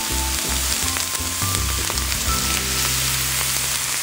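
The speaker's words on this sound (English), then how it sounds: "I always like to cook my tomatoes with my hamburger meat." Hamburger meat and tomatoes seasoned with Mrs. Dash sizzle steadily on a griddle, with a close, continuous frying hiss and a few scraping clicks over a low rumble.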